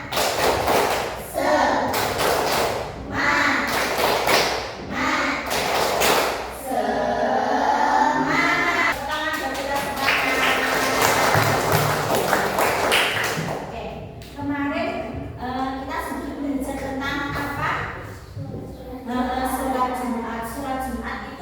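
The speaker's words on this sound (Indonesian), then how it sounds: "Kita tepuk semangat dulu ya." A classroom of students does rhythmic spirit clapping (tepuk semangat) in an Islamic studies lesson, sharp group claps in quick patterned bursts that alternate with a teacher's voice and children chanting, fairly loud and close throughout.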